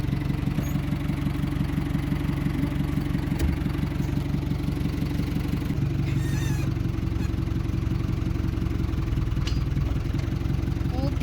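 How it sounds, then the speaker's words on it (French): A farm tractor idling while parked after unhitching a manure spreader, a steady close low-pitched engine chug with rhythmic clatter running throughout, with faint occasional clicks over it. "Je laisse le tracteur là."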